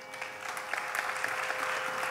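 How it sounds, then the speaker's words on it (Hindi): Audience at a Hindustani classical vocal concert with tabla and harmonium breaking into brief, steady applause, a dense patter of many hands heard fairly quietly and alone. "जोरदार तालियां हो जाए"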